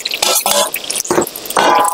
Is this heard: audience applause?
no